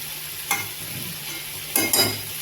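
Peanut, garlic and coriander-paste field-bean curry sautés in oil in a pan, a soft, steady sizzle broken by a few brief scraping stirs, close by, without speech.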